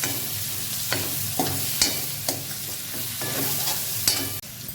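Prawns frying in a pan with turmeric pieces, a steady close sizzle broken by a run of regular spatula scrapes and taps as the mixture is stirred, with no voices.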